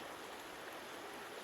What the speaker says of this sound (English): Hiked along this little stream for several miles, and it just needs a little more water in it.